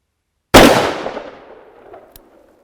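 A single loud revolver gunshot cracks out sharply, then its echo decays over about two seconds with a faint click near the end.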